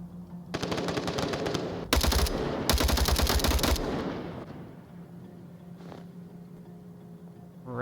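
Automatic gunfire in the VR shooter Onward during a competitive match: several loud, rapid bursts with short pauses between them, then a trailing echo that fades into quiet ambience.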